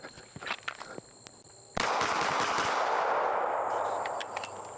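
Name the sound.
pistol shots fired during a range reload drill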